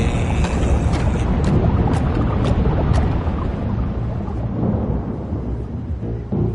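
Thunderstorm at sea in a VR fishing game with a trawler battered by the storm: heavy roaring wind and churning water with rumbling thunder and sharp cracks early on, loud and continuous, no speech.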